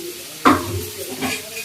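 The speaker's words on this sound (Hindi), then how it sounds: "पनीर तल रही हूँ" Paneer hits hot oil in a pan with a sudden loud hiss that settles into a steady sizzle, followed by a smaller second burst of frying, no voices heard.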